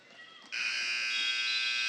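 A basketball game buzzer sounds at the end of a period between the Newport Greyhounds and the Bradford Eagles, a loud steady electronic tone that starts abruptly and holds without a break.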